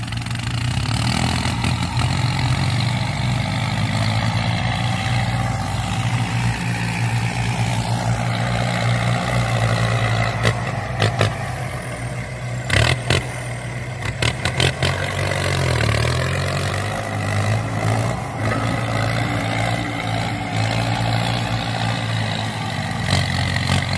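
A heavy tractor engine runs steadily throughout while levelling a rice paddy field, a loud low rumble with occasional clanks and rattles, close by and without speech.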